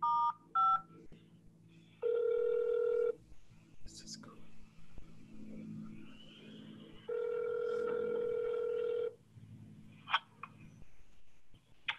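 Telephone keypad tones play after star 5 is pressed, as two long steady beeps and a few short ones, fairly faint, with quiet background voices between them.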